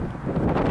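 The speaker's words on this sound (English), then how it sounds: "It's a bit windy." Wind buffets the microphone beside a busy winding road near the Hoover Dam, a brief rumbling gusty roar, loud and close, with no talking.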